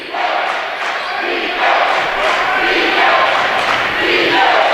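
Crowd noise fills a college basketball game between the SEU Hilltoppers and the UTPB Falcons, a broad, steady roar of cheering voices that swells slightly and holds, loud and continuous throughout.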